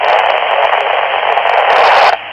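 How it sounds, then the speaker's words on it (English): Loud burst of radio static and hiss with faint, garbled voice chatter from a distant speaker on a Midland FRS walkie-talkie, cutting off abruptly near the end. "you hear a little bit of chatter on there"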